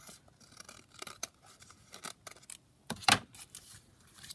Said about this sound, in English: So I'm just going to trim these down the side.